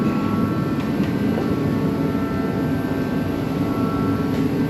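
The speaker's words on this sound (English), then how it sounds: "Sorry for the heater drone, trying to be warm." Steady broadband drone from a space heater running in a workshop beside a 1964 Correct Craft American Skier boat under restoration, continuous and fairly loud with no change in level and no talk.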